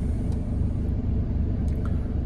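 A car engine rumbles low and steady close by, a faint idling drone without clear revving, alone for a couple of seconds.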